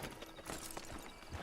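Horse hooves clip-clop at an easy walk in Red Dead Redemption 2, a close, irregular run of soft thuds under faint game ambience.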